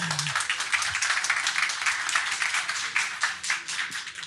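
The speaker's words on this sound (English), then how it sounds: "Please, a round of applause for our speaker." An audience applauds a speaker taking the stage at a Salesforce tech talk, with dense, steady clapping from many hands filling the room for about four seconds.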